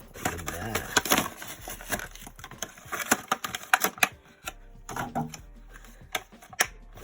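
A Hot Wheels Nissan Skyline 2000 GT-R LBWK toy car's blister pack being torn open by hand, with close, busy crackling of stiff plastic and cardboard in irregular bursts, then a short lull before a few more snaps.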